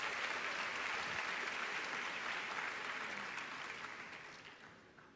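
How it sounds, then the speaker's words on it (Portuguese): Church audience applauds performers in a sustained, even wash of claps that slowly fades toward the end, with no voices over it. "Uma salva de palmas para os nossos artistas aqui."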